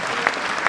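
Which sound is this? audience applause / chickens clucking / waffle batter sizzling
audience applause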